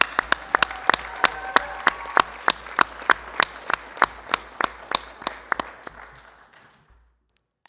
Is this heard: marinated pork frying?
no